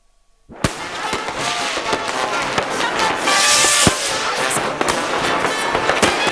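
After a brief quiet moment, New Year's midnight fireworks over Vienna erupt into a constant, loud barrage of bangs and crackling bursts, near and far, filling the night.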